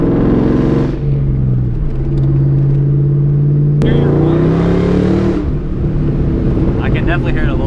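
A supercharged car engine revs up repeatedly, loud and close, with rising and falling sweeps and a high whine layered over the roar. Voices talk intermittently over the engine noise.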